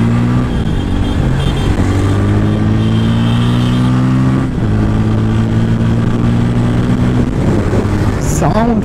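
A Bajaj Pulsar N160 motorcycle engine revs loudly and steadily up close, its pitch climbing and dropping through several throttle pulls as it rides on the road.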